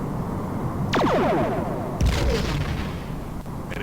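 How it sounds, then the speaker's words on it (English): Enemy starship weapons fire in the Star Trek: The Next Generation – A Final Unity space combat game: a sharp descending zap at about one second, then a louder impact burst at two seconds with rumbling echo, over steady ambient hum. "Enemy ship is firing."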